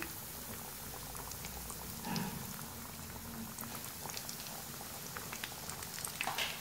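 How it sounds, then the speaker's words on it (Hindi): Breadcrumb-coated chicken nuggets fry in oil over a medium flame, making a continuous bubbling sizzle with scattered small pops and crackles at close range. "दो से 3 मिनट मीडियम फ्लेम पर हम फ्राई करेंगे।"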